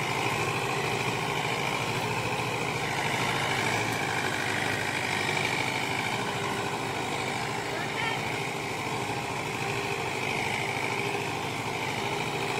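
A Mahindra 575 DI tractor drags a trolley loaded with sugarcane across a field, its diesel engine droning in a steady, unbroken rumble for the whole stretch, close and fairly loud.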